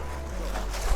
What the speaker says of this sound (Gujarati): આવે ઓ મોજા આવે મોટા મોટા